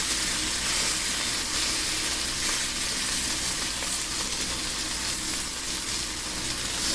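Loud, dense sizzling of pork chops frying in a hot pan on a stovetop, a constant crackling hiss close up with no talking.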